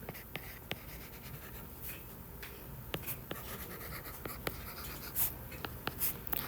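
Pen or marker writing out a formula for polygon area and perimeter: quiet, close scratchy strokes in short irregular bursts with small taps, and no talk.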